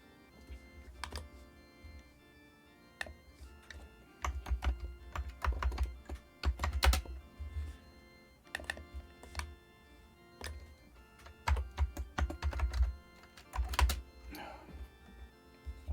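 Irregular bursts of keystrokes on a computer keyboard during Amiga Blitz Basic and C coding, close and fairly loud, with pauses between flurries and no talking.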